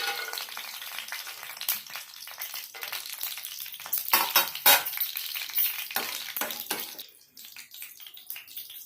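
Peanuts frying in hot oil in a pan for semiya upma, a steady crackling sizzle with stirring bursts, loud at first and then easing off near the end.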